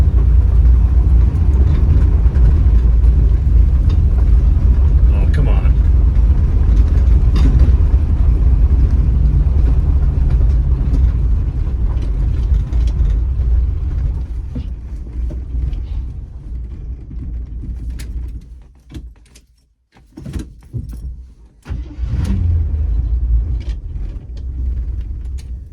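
Jeep Wagoneer engine running steadily with a loud low rumble, then sputtering and dying out of gas before cranking attempts in uneven bursts.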